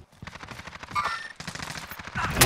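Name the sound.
gunfire in Call of Duty: Warzone video game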